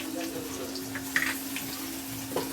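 Ginger, garlic and green chilli paste lands in hot oil with curry leaves while making vada pav: a faint, steady sizzle with a few soft crackles over a low background hum.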